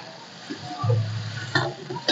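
Water poured into sizzling soybean chunk masala in a hot pan, a low hissing sizzle swelling after a splash and continuing steadily with faint stirring clatters, close and moderately loud.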